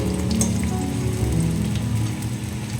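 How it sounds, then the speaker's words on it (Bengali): Carrots deep fry in plenty of oil for a mixed vegetable pickle, a constant bubbling sizzle with scattered crisp pops, heard close under a low steady hum. "ওদিকে আমার গাজর ফ্রাই হচ্ছে"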